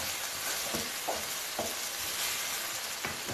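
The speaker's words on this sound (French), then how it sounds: "On va tranquillement mélanger le tout ensemble." Potato, vegetable and minced meat filling with leeks and crème fraîche being stirred in a pan, giving soft scraping and gentle sizzling with a few spoon clicks, steady and close.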